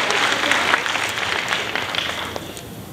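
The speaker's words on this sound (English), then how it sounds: "And one more round of applause." Audience applause at an anime convention cosplay masquerade, a dense wash of many hands clapping that fades slightly toward the end.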